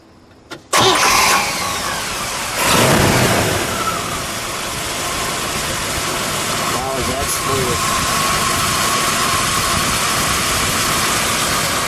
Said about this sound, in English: There's that exhaust out of both sides. Go ahead, give it a little rev.